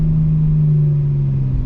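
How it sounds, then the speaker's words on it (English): A 2025 BMW M4 Competition xDrive downshifts into second and brakes, its engine note a steady low drone holding pitch then sagging slightly as it slows, loud and close from inside the car. "Downshifting all the way into second and braking."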